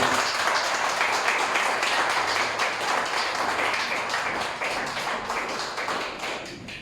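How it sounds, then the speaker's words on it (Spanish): Applause from a church congregation fills the space, dense and steady for several seconds before easing off slightly toward the end, with no voices over it. "¿Nos pueden dar un aplauso a nuestro Señor?"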